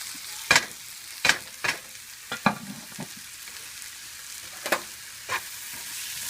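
Tomato and masala spices, including chilli, pepper, asafoetida, cumin and fennel, frying in a pan, a soft continuous sizzle broken by several sharp stirring scrapes and knocks, with no talk.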